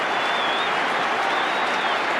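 Supporters in a football stadium crowd at a 1988 VFL elimination final at Waverley clap and cheer in a dense, steady roar of applause that fills the whole stretch, with a faint whistle rising above it.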